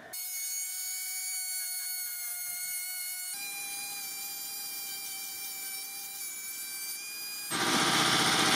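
Sword blade being sanded by hand with sandpaper wrapped around a tool, a steady close rasping scrub that carries on at an even level and grows sharply louder and harsher near the end.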